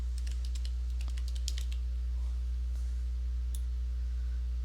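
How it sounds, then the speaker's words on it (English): Someone types on a computer keyboard, a quick burst of soft key clicks at the start followed by scattered single taps, over a steady low electrical hum. "type in the title of my project"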